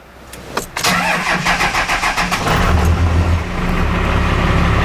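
A car engine cranks with a rapid, rhythmic churning for over a second, then catches and roars into a loud, steady idle.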